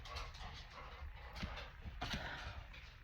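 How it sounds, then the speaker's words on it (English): Pet dogs indoors make soft, scattered whimpers and yips at a low level over faint room noise, with no one speaking. "I'm sorry, my dogs are up to mischief."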